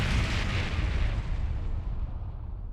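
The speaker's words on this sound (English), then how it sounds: "Sounds like screaming. And cannon fire." A heavy, booming cannon blast in the video game Ys X: Nordics rolls out and slowly decays into a low rumbling tail, loud and fairly distant.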